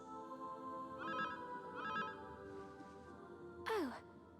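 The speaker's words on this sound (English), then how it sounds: "Oh, that's right, we have a phone now." A telephone ringing in the video game Dragon Quest Monsters: The Dark Prince, heard as two short electronic trilling rings over background music, followed by a rising-then-falling chime.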